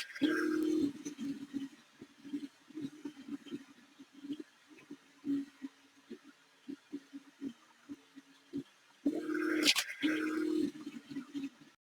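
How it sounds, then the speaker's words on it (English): A 3D printer works on an object, its stepper motors whirring in short varied buzzes and longer hums, steady and fairly quiet at close range. "Now let's turn on the 3D printer, we start printing the object,"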